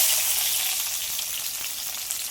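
Chopped onions dropped into hot oil with cumin in a kadai or wok give off a loud, steady, crackling sizzle throughout, with no voices.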